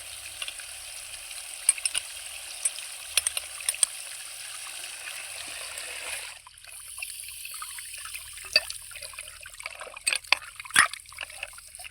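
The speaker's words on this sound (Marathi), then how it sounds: "तर बघा बाऱ्यात किती पाणी आहे" Water trickles and gurgles into an irrigation channel in a farm field with onion seedlings, a close, thin bubbling flow with scattered splashes and clicks that quiets partway through.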